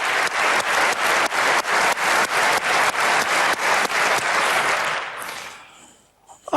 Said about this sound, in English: applause for the students